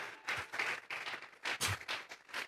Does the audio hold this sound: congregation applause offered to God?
yes